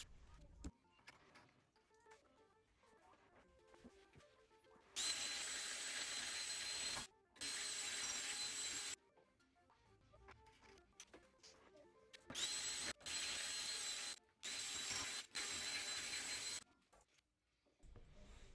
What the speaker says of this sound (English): I told you, drilling through tile is a pain.